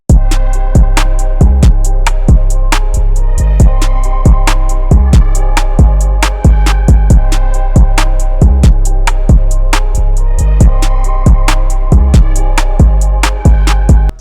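Full trap beat made in FL Studio, with deep booming 808 bass under steady kicks, snappy claps, rapid hi-hats and a sustained melodic layer, loud and dense throughout with no talking.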